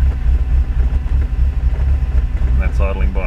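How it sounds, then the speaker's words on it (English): A Nissan N12 Pulsar turbo engine running on E85 idles cold on its own, a steady low rumble with a slightly uneven, rich-running lope, close and loud throughout, while someone speaks over it. "that's idling by itself, which is not real happy with that"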